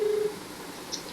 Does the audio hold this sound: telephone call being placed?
yes